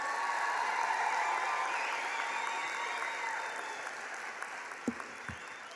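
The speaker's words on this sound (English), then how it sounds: "Can we give all those graduates from that round a round of applause" A crowd at a graduation ceremony applauds the graduates in a steady, broad wash of clapping that gradually thins and fades, with a couple of soft thumps near the end.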